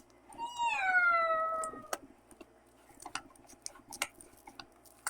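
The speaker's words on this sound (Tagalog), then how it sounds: "Pusa pala eh." A cat lets out one clear, drawn-out meow up close, followed by faint scattered ticks and clicks in a quiet room.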